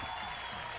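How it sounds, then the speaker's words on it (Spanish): Applause from a studio audience on a live Chilean daytime TV show, a steady dense wash of clapping that runs through the whole short moment without a break. "Un aplauso grande a la mamita de Katy Tapia"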